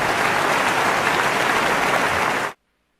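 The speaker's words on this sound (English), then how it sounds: "I love that applause" Loud, steady applause from a crowd at an awards ceremony, many hands clapping at once, which cuts off abruptly and leaves silence.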